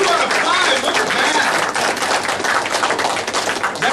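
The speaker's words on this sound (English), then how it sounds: "Everybody give Sean a round of applause." A round of applause from the audience at a Tea Party meeting, loud crisp clapping filling the room steadily throughout with a dense, slightly uneven rhythm.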